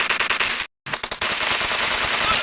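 Rapid automatic gunfire from the mobile game PUBG Mobile rattles in loud bursts, with a short silent gap before the firing resumes steadily.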